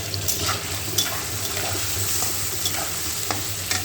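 Dried loitta fish frying in a pan, a steady sizzle under a low hum with scattered stirring scrapes and clinks, close by and with no voices.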